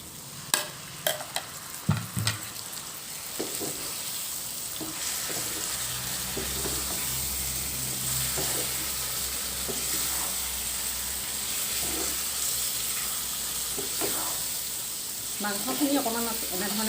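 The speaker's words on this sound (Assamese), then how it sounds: "মাংসখিনি অকণমান এনেধৰণে লৰাই দিম।" Chicken meat fries in a pan for a local chicken curry with papaya, a continuous sizzle broken by scraping stirs and a few clinks of a utensil against the pan.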